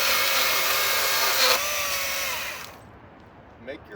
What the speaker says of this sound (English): Place the chainsaw near what you're cutting. Start the saw,